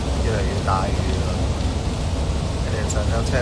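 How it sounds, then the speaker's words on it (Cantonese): Heavy rain pouring outside a home, a dense, even roar of falling water that never lets up, with a voice faintly audible beneath it. "雨到好嘈，唔知你哋聽唔聽到？"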